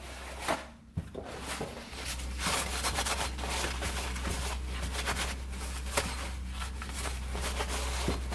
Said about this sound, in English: Wipe that down.